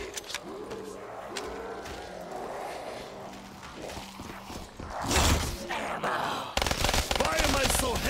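Video-game gunfire from Call of Duty Black Ops zombies mode, a run of loud shots and bursts over game noise and some voices, growing denser and harsher toward the end.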